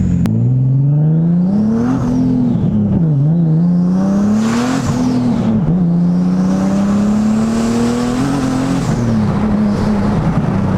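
A turbocharged Nissan 370Z with a swapped Q60 engine accelerates hard, heard loud and close with the windows down, its revs climbing and dropping through several gear changes.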